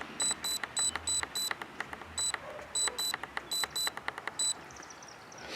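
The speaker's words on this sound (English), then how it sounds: "hold it. It'll beep and flash." A budget 63-quart vehicle fridge freezer's control panel beeps in quick clusters of short, high, evenly spaced tones, repeating several times close by against a faint background hiss.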